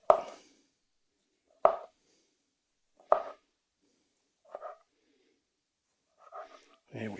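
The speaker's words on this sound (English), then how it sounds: "we're just going to cut into slices here" Knife cutting through peeled citrus fruit on a board, three sharp, fairly close chopping strokes spaced evenly apart, followed by softer handling sounds near the end.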